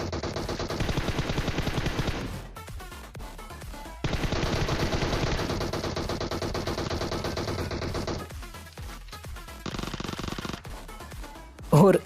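Loud, sustained automatic gunfire from the mobile battle royale game PUBG Mobile, long rapid bursts broken by short gaps, played continuously from start to end.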